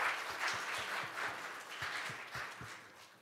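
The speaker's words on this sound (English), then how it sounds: "Let's give them a round of applause for that." A church congregation at a Palm Sunday service applauds the choir with steady, even clapping, fairly faint and somewhat distant in the sanctuary.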